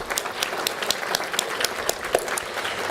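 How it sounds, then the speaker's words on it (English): Audience applause at a civic event in Coeur d'Alene, Idaho, with dense, steady clapping from a sizable crowd that holds evenly for the full stretch, individual sharp claps poking above the wash. "So let's give them a big round of applause."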